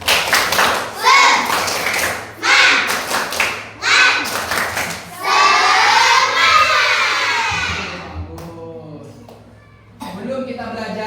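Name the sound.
class doing the rhythmic 'tepuk semangat' spirit clap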